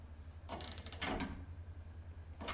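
Bolts on a Polaris Ranger rear bumper are tightened by hand, giving a few short ratcheting clicks in separate bursts, close and fairly quiet over a low background hum.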